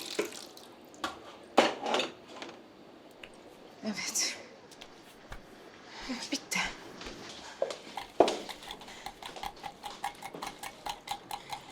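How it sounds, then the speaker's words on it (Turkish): Dishes and cutlery clink and clatter intermittently amid splashing water from a running tap, with a person speaking over the clatter. "Ben bulaşıkları bitirdim."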